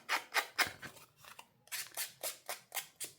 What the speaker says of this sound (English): So I just use my scissors.